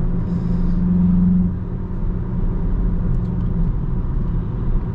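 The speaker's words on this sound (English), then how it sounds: "Sport mode adds some kind of artificial sound and makes it seem much louder" A steady, loud 2023 VW Jetta GLI engine rumble in sport mode, with artificially enhanced sound, a low droning hum near the start, continuous throughout with no talking.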